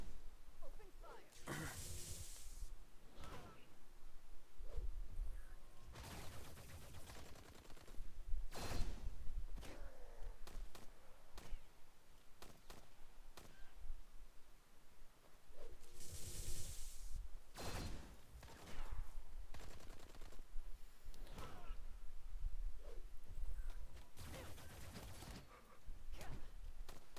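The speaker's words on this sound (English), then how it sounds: "Target locked. Open fire." Bursts of gunfire and whooshing weapon effects from the video game Marvel Future Revolution, sharp volleys and swishes recurring through a busy combat mix.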